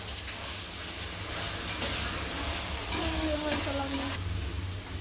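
Tomatoes sautéing with salt in a pan while a layered mango leaf biryani is prepared, giving a steady close sizzle with stirring scrapes and no talk.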